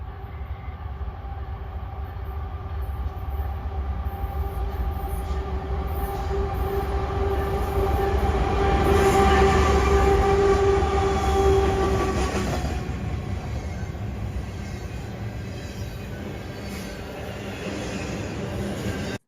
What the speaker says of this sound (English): here comes an eastbound freight. Second unit's a KCS locomotive.